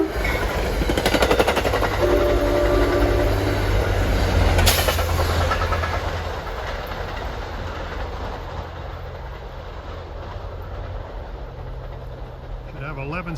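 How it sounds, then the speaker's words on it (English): NJ Transit train 66, running from Middletown to Hoboken, rumbles past close by with clattering wheels, loud at first and then fading as it moves on, and a voice is heard over it. "here comes train 66 from Middletown to Hoboken"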